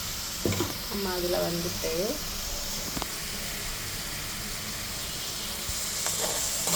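Food fries in oil in a pan, a steady sizzling hiss running underneath a voice speaking throughout.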